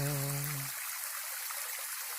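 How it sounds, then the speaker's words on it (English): A stream running in Turkey Run State Park, Indiana, heard as a soft continuous rush and trickle of water. A brief hummed musical tone sits at the very start before the water carries on alone. "Running water. Oh, plenty of running water."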